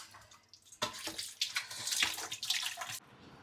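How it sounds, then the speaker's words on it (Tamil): Plates are washed under a running tap, with splashing water and clinks coming in uneven bursts, fairly close and moderately loud, before the flow cuts off near the end. "சாப்பிட்டு முடித்த பிளேட்ஸ்லாம் வந்து வாஷ் பண்ணி வச்சிடலாம்"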